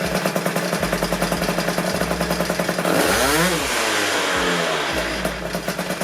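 A scooter fitted with an Athena 70 kit engine revs loudly and harshly, a rapid pulsing exhaust note that climbs to a screaming high-rev burst in the middle, then drops back to a choppy idle-like beat.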